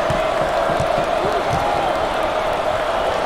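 Arena crowd noise during an NCAA Basketball 20 tournament game, a steady roar of cheering fans with a sustained tonal hum and thumping ball bounces underneath.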